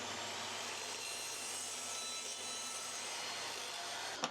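Timber is cross cut on a router table coping sled, giving a steady, fairly loud rasping saw noise that runs evenly throughout and ends with a small knock.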